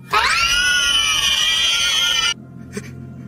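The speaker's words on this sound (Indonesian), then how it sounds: "Lalu para hantu itu berteriak dengan sangat kencang dan menghilang." Ghosts scream very loudly in a horror film set at a haunted station, a single sustained, shrill, wavering cry held for about two seconds before cutting off abruptly to quiet room tone.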